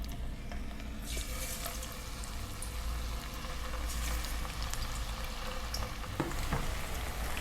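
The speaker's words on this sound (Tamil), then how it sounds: "நம்ம சிக்கன்லாம் போட்டு பொரிச்சு எடுத்துடலாம்." Chicken pieces deep-fry in hot oil for chicken fried rice, a dense, steady sizzle and bubbling that stays close and constant, with a few sharper crackling bursts as more pieces go in.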